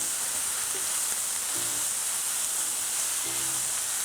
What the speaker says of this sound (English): And just give everything a nice stir here.